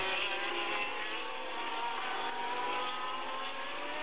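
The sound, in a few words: Ferrari Formula One race car driving uphill at full throttle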